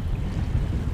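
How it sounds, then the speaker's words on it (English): Wind and rough choppy water around a fishing kayak on open water ahead of a tropical storm, a steady low roar of gusts and slapping waves filling the whole short stretch without talk. "it's a little bit rough out here today, pretty daggone windy"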